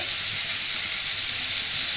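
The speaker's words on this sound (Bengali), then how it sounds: "অল্প একটু সাদা তেল নিয়েছি কড়াইয়ে, তার মধ্যে একটু রাঁধুনি আর একটু মেথি দিয়েছি আর একটা শুকনো লঙ্কা একটা তেজপাতা" A small amount of white oil sizzles steadily in a kadai with radhuni, fenugreek seeds, a dry red chili and a bay leaf, making a loud, continuous, close frying hiss with no talk.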